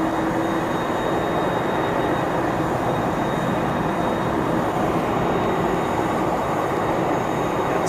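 A Boeing 737-400 jet at Ted Stevens Anchorage International Airport produces a loud, continuous broadband roar that stays steady and close throughout, with no pauses.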